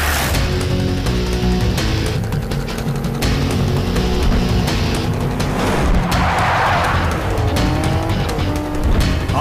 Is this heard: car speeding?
yes